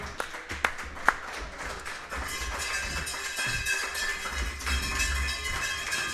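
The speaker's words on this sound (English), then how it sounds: "Let's give them one more loud round of applause" A room applauds coaches on a weekly team coaches show, a few sharp early claps swelling into a steady, moderately loud round of applause with faint background noise.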